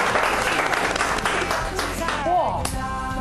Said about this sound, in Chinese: 来宾请掌声鼓励一下